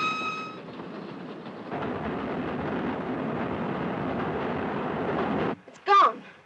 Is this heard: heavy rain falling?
no